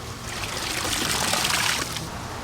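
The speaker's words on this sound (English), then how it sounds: "Pull out the filter and squeeze it out." A pond filter squeezed out by hand, water trickling and splashing down in a steady close stream that swells briefly and then eases off.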